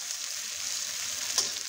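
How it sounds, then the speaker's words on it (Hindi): Sliced onion frying in hot ghee in an open kadhai while cooking aloo matar pulao, giving a steady, even sizzle throughout with one brief louder crackle near the end. "वो प्याज घी के अंदर हमें डाल देना है और इसको हमें हल्का हल्का सा सॉफ्ट कर लेना है"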